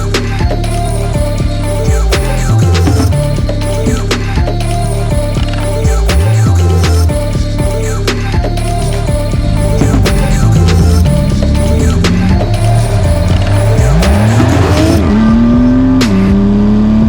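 A 2018 Porsche 911 GT2 RS is driven hard, its loud engine droning steadily and rising in pitch as it accelerates, with rising squeals near the end that may be tires; no voices.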